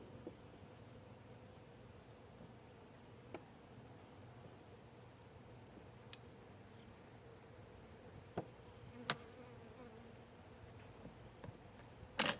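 Honey bees hum faintly around an open conversion hive during an inspection, a soft continuous drone with a few small clicks and knocks from handling the frames.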